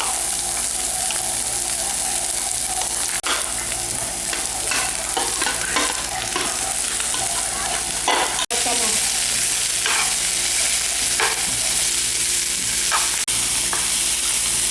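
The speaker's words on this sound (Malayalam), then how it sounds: "രണ്ട് മിനിറ്റ് ഇളക്കിയതിന് ശേഷം കേബേജും ഇടുക." Capsicum and cabbage stir-fried for vegetable macaroni give a loud, continuous close sizzle with steady stirring and occasional scraping clatter of the spoon in the pan.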